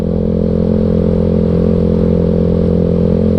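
A Yamaha Mio scooter engine with a dry carburettor setting and no added jetting idles steadily at close range, its low throb and faint clatter holding even and loud throughout without revving.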